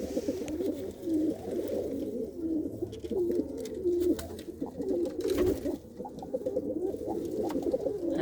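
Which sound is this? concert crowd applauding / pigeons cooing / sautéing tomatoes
pigeons cooing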